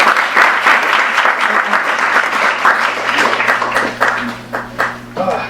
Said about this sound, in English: another round of applause for Alex Vitale